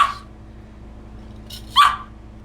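Two short, high yappy barks from puppies, one near the start and a louder one later, with quiet gaps between.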